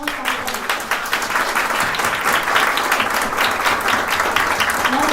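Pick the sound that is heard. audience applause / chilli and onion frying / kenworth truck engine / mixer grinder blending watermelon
audience applause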